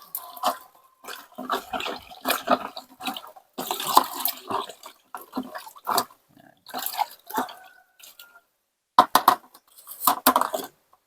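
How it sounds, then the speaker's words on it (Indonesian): Homemade fish-waste JADAM liquid fertilizer is stirred in a container, giving irregular wet sloshing and dripping splashes in uneven bursts with short silent gaps, close by and moderately loud. "Masukkan seperti ini, selanjutnya diaduk."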